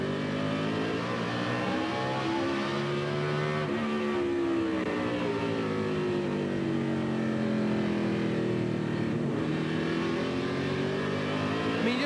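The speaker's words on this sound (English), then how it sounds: "Listen to Michael Waltrip when he picks the throttle up." Michael Waltrip's race car at the 2003 Virginia 500 accelerates as the throttle is picked up, its engine pitch rising and falling in long sweeping harmonics, loud and sustained.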